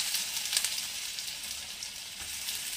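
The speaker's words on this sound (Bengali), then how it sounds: "তেল গরম হয়ে গেছে, এবারে আমি এখানে ফোড়নে দিয়ে দেবো একটু আস্ত জিরে, দিয়ে দিচ্ছি আদা কুচি" Whole cumin seeds and chopped ginger dropped into hot white oil, giving a steady, bright sizzle and fry hiss that holds evenly for the whole stretch, close and moderately loud with no talking.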